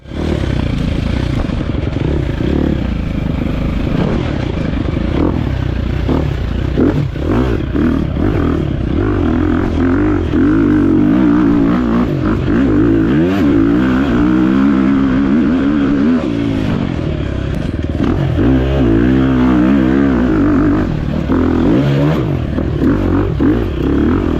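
An enduro dirt bike works down a slick trail descent and back up the following climb, its engine droning and revving loudly throughout, rising and falling with throttle and mixed with clatter and scraping from the terrain.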